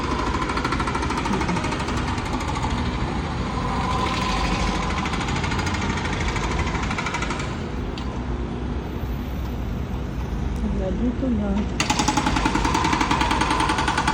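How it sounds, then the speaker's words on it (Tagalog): Construction work on a city street in Columbus, heard as a loud, continuous rapid hammering and engine rumble that persists throughout at close range, with a brief spoken phrase partway through. "Meron pa mga construction dyan."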